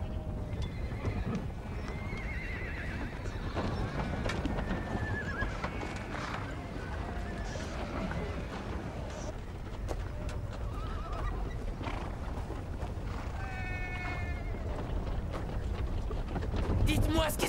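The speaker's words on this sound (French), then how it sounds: "Faites avancer les chevaux!" Several horses move along a riverside on the way to new pastures, hooves clip-clopping steadily while whinnies and neighs rise repeatedly over constant wind and outdoor background noise.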